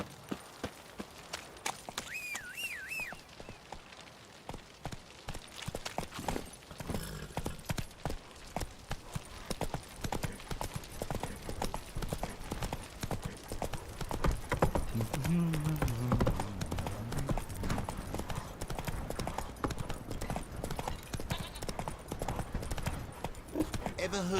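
Horse hooves clip-clop at a steady run in The Witcher 3, a continuous rhythmic patter under music and occasional spoken voices.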